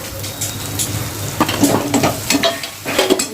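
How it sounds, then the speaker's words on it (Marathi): Spice masala for black chickpea dal, with cumin, coriander powder and salt, fries in a pan with a crackling sizzle, broken by scraping stirs and metallic taps of a utensil, close and fairly loud, with no talking. "आता आपण फ्राय करून घेऊया"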